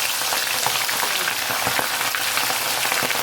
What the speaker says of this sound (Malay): Kita goreng sampai dia garing.